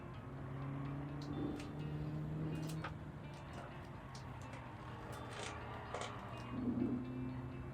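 Synthetic augmented engine sound from a Hyundai Ioniq 5 N, a 2024 electric hot hatch driven hard on the Nürburgring: a steady droning engine-like hum with shifting tones runs throughout at moderate loudness.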